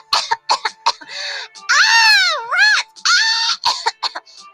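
A storyteller's voice imitates an ogress coughing: a few short, harsh bursts followed by a long, wavering, groaning vocal strain, close and fairly loud, with no other sound behind it.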